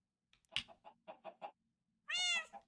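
A cat in a video game gives a series of short chirping meows, several quick calls in a row followed by a longer, louder drawn-out meow, close and clear with no talking.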